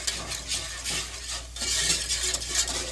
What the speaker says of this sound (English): I'm going to stir this good.